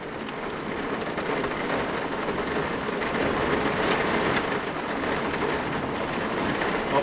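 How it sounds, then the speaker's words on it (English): Heavy rain falling during a fishing trip, a dense, loud, steady hiss of drops pounding surfaces that stays constant from start to finish with no talking. "Look at the rain."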